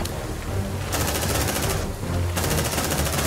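Sustained automatic gunfire in Aliens Dark Descent, loud and dense, rattling in two long bursts with a short break between them.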